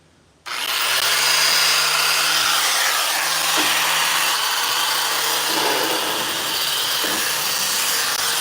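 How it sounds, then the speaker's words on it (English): Angle grinder with a wire brush scours crusty paint and rust off custom steel deck stair stringers, a loud, continuous harsh whine and scrape that starts abruptly and runs steadily with slight shifts in pitch. "that grinder is so aggressive"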